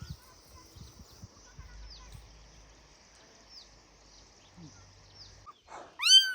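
Two kittens in a bullock shed in a hill village give a few faint, high meows, with the loudest cries bunched near the end over a quiet rural background.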